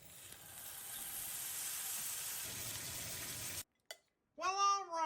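Steak sizzling and searing in a hot pan inside a video game (Final Fantasy V), a steady close hiss for several seconds before breaking off, followed by a short burst of a voice.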